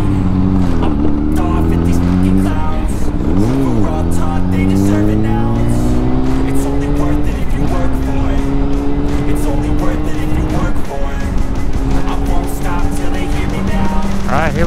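A 2005 Honda CBR 600RR motorcycle engine drones loudly throughout while riding, its pitch climbing and dipping through gear changes over constant wind rush.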